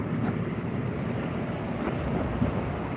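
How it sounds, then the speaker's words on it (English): Wind blowing at sea, heard from a fishing kayak, a steady broadband rush with gusty buffeting on the microphone and faint water movement beneath, continuous throughout. "It's just a touch windy."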